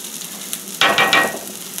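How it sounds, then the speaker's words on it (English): Food sizzles in a little bacon fat in a small cast iron frying pan, with a low steady hiss that swells suddenly into a louder crackling burst partway through, close by. "In the smaller frying pan, it will also be in a little bit of bacon fat, just a little bit."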